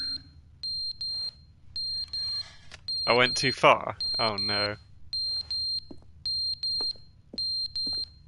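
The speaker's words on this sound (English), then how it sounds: "the beeping is pretty annoying" Repeating electronic alarm beeps in The Stanley Parable video game, short high bursts in a steady rhythm that continue under excited talk and a loud shout in the middle.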